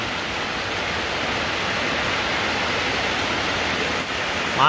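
Rainwater runs off after a downpour, a constant broad rushing like a small stream or overflow, heard close and unbroken throughout.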